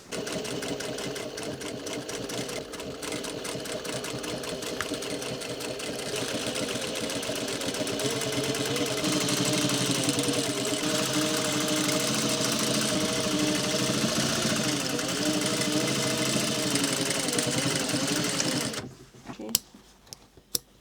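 A sewing machine runs steadily for about eighteen seconds, top stitching a seam on a pair of dungarees, its fast even motor whirr loud and close before it stops and a few small handling clicks follow.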